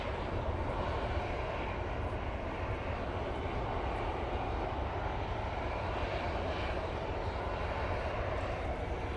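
An EasyJet aircraft at windy Manchester Airport, setting off on a positioning flight to Liverpool, produces a steady, distant broadband engine roar with wind noise and no voices.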